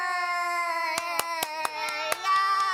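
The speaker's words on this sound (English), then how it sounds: "I'm clapping for both of us!" A few sharp hand claps ring out one after another, spaced unevenly, over a steady sustained tone running underneath.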